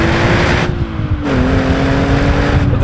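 A 2019 Nissan 370Z NISMO exhaust revving, a loud close engine note whose pitch rises and dips through a quick blip, then settles to a steady high drone.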